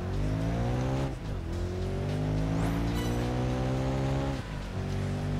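Racing car engine in the video game Project Gotham Racing 4, a loud sustained roar that climbs in pitch, drops back sharply at gear shifts and climbs again, with a brief tire squeal in the middle.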